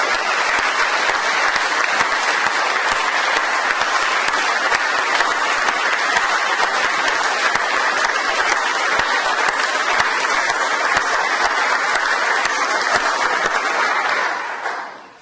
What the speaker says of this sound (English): please stand and take a round of applause